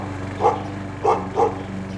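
A dog barks three times outdoors, moderately distant, over a steady low hum.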